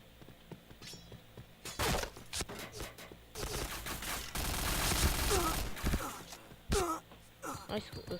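Gunfire in a first-person shooter video game crackles in several bursts, some rapid and sustained, some single sharp shots, fairly close, with a player talking over parts of the action.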